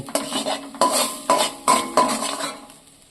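A mashed potato and flour mixture is stirred and scraped in a wok, giving a rhythm of four distinct scraping strokes. Each stroke fades into a soft sizzle before the next begins.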